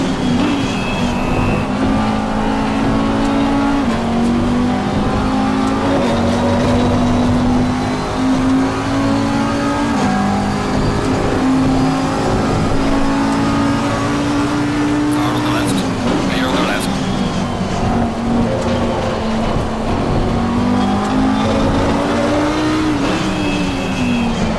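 An Audi R8 LMS Evo 2 GT race car engine in the sim racing game Assetto Corsa Competizione, a loud continuous high-revving drone that rises and dips through gear changes across the lap, steady and up close.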